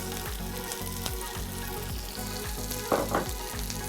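Chopped capsicum roasting in hot oil in a pan for a paneer gravy, a loud continuous frying sizzle with soft periodic stirring bumps and a brief louder scrape near the end.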